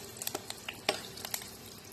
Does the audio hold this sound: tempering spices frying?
yes